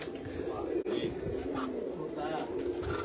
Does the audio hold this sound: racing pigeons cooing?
yes